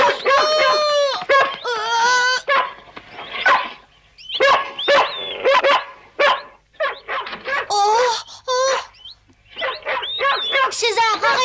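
A dog barks and yaps in loud, choppy bursts at close range, interleaved with frantic cartoon voices calling out between the barks.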